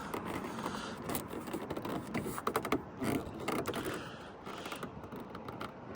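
Plastic creaks and clicks as the boot handle trim panel is pried off a VW Golf MK6, a close run of irregular snaps and scraping bursts that quiets toward the end.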